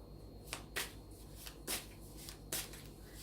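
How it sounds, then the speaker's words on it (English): Tarot cards being shuffled by hand: several short, crisp riffling bursts at uneven intervals, close and clear over a steady low hum, with no speech. "as I shuffle the cards"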